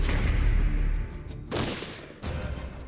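A single gunshot rings out as police close in on an armoured bulldozer: sharp, loud broadband cracks and booms stand out against a dense, rumbling dramatized soundtrack.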